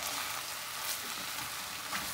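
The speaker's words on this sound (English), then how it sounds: "Now let's add in our beautiful butternut squash. And we're gonna let that saute for a little bit." Butternut squash sautéing in a pan, a soft, even sizzle that stays fairly quiet and steady throughout, with no voices.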